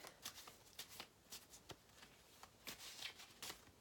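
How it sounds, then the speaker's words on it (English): Soft rhythmic riffling of a tarot deck being shuffled by hand, a quick series of papery flicks and slides in short bursts, quiet and close, with no talking. "I'm sort of shuffling them around."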